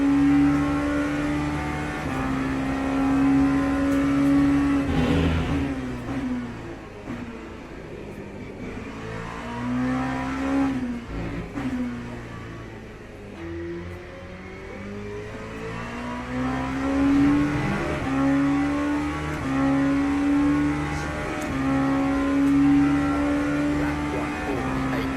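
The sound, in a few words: LMP2 race car engine revving in Le Mans Ultimate video game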